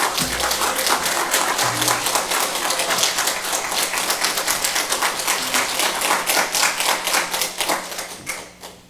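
A church congregation claps to welcome its new pastor before his first sermon, a loud, busy patter of many hands that keeps going, then thins and fades toward the end.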